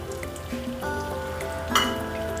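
Ghee sizzles steadily in a hot kadai, a dense, even crackling hiss up close that swells briefly partway through.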